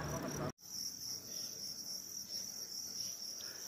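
Farmed crickets chirp in a steady, continuous high-pitched trill at a cricket-rearing farm, loud and close, with a brief burst of other noise at the very start.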